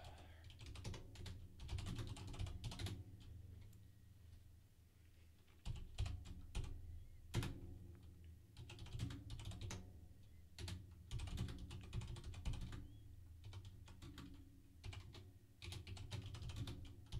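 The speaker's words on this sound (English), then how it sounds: "I can type." Steady, fast typing on a computer keyboard continues throughout, with dense clattering keystrokes and only brief pauses, heard up close at low level without speech.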